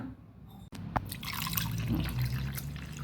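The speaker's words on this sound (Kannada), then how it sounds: "ಈಗ ಇದಕ್ಕೆ ಸ್ವಲ್ಪ ನೀರನ್ನು ಹಾಕ್ಕೊಳ್ಳೋಣ" Water is poured from a glass into grated mango pulp for mango juice, a soft liquid splash after a couple of small clinks, close and fairly quiet.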